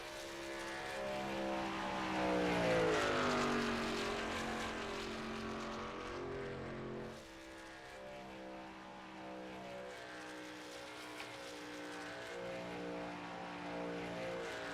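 A number 85 Ford F-150 race truck laps Daytona during NASCAR qualifying, its engine a sustained harmonic drone that rises and sweeps in pitch as it passes, then continues more steadily at a moderate distance, with no voices.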